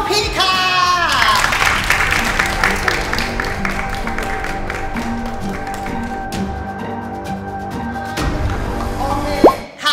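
Applause greets a guest walking on stage at a Miss Thailand 2016 reality-show challenge. Steady, dense clapping runs for about ten seconds under sustained musical tones and a rising synth sweep, then ends with a sharp burst.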